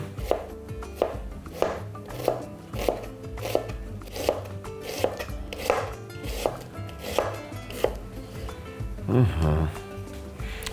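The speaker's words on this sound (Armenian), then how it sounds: "Կտրատում ենք կիսա օղակների։" A knife chops red onion into half rings on a board in an even, steady rhythm of about a dozen crisp, close strikes, with a soft clatter near the end.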